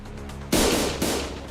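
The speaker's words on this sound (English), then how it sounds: "A loud explosion left Don Quixote dismembered" A sudden loud blast hits in the Limbus Company video game, followed by a second burst a half-second later over a low ambient hum.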